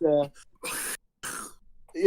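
A voice imitates a dragon's cough with a few harsh, raspy, throaty bursts separated by short pauses, close to the mic.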